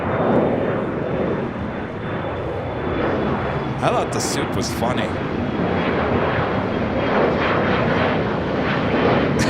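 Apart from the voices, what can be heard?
jet airliners at Los Angeles airport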